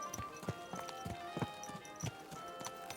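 Horse hooves clip-clop at a walking pace in the medieval video game Kingdom Come: Deliverance II, a steady series of fairly faint, close hoof strikes with a quiet ambient bed behind them.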